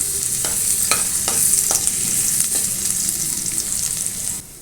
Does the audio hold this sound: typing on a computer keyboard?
no